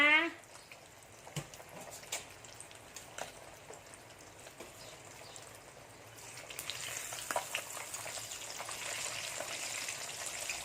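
Tilapia fries in hot oil with a continuous crackling sizzle that grows busier and louder in the second half, with scattered sharp pops and someone speaking over it.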